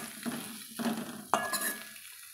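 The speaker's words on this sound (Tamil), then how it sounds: "வெண்டைக்காயும் நம்மளுக்கு நல்லா வதங்கி வந்துருச்சுங்க" Okra sautés and sizzles in a pan for a Tamil kara kuzhambu, with three distinct scraping stirs and a faint utensil clink over a steady low frying hiss, close and moderately loud, no talking.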